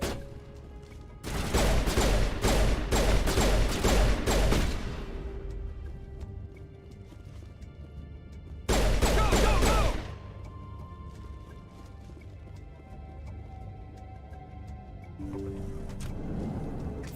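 Pistol fire from a Mass Effect firefight rattles out in two loud bursts of rapid, closely spaced shots, the first lasting several seconds and the second briefer, with quieter ambient game sounds in between and after.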